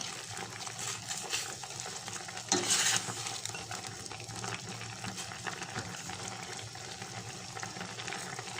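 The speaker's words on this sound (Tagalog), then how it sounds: "Haluin natin muli." Patola and ground pork soup being stirred in a pot near the boil, a steady soft bubbling and scraping with one louder clatter midway, alone without talk.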